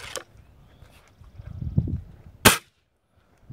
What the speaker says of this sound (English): Now I'm going to shoot the Hobbies and the GAMO Varmint.